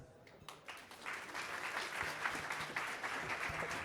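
An audience at a space-industry career fair claps after a presenter, the applause building from scattered claps into a steady moderate round, with some faint background noise but no clear speech.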